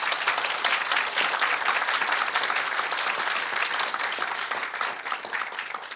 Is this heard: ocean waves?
no